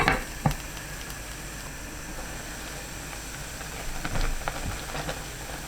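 Egg soup with fried tofu pouches, enoki mushrooms, green onion, garlic and anchovy sauce boils over high heat, a soft, steady bubbling and crackling simmer heard close, with a few light clinks and taps over it.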